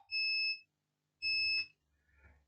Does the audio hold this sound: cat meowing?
no